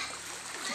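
Children splashing in river water, heard as a brief, close, continuous wash of splashing and churning water with voices mixed in.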